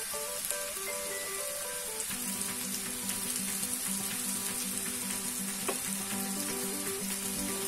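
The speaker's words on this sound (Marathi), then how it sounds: "हे पहा, अशा पद्धतीने व्यवस्थित त्या आता कडक होईपर्यंत शॅलो फ्राय करून घ्यायच्या." Coriander fritters (kothimbir vadi) shallow frying in oil in a large pan give a continuous bright sizzle with crackling pops, steady throughout, while a faint melody plays underneath.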